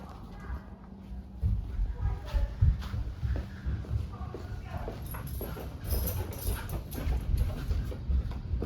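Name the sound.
dogs whimpering during a tornado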